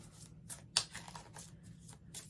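Oracle cards from a Healing Energy Oracle deck being shuffled by hand, a run of soft papery riffles and slaps with one sharper snap near the start, close and fairly quiet, no voices.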